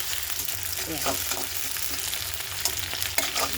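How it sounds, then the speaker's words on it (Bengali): Onions fry in a hot pan with a steady, close broadband sizzle, broken by a few soft scraping stirs and light utensil taps. "পেঁয়াজটা লাল লাল হয়ে গেছে ভাজা, ভেন্ডিটা দিয়ে দিলাম"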